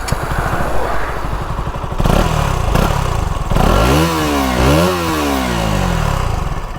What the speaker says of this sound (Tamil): ஸோ பைக்கோட எக்ஸாஸ்ட் சவுண்ட் கேட்க ரெடியாக இருக்கீங்களா?